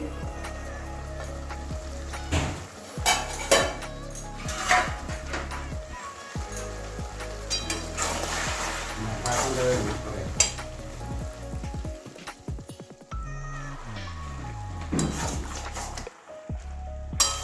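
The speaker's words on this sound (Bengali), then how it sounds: "ঢাকনা খুলে আবারও নাড়িয়ে দিচ্ছি" Vegetable curry of bottle gourd greens, potato, eggplant and lentil dumplings is stirred in a pot after the lid comes off: steady sizzling with scraping, clattering stirs and occasional clinks of the lid and spoon.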